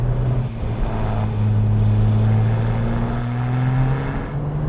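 The engine of a Porsche 997 GT2 RS drones loudly and steadily from close range while the car drives along open roads, its pitch rising slightly as the revs climb.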